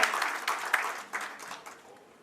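Attendees at a tent dealers' association executive meeting at a hotel clap together in a short burst of applause that fades toward the end.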